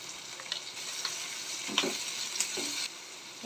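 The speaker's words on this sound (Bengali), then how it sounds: "সব একসাথে ভেজে নেব।" Garlic, onion, tomato and capsicum fry together in a pan with a quiet continuous sizzle, punctuated by several light spatula scrapes and taps, no one speaking.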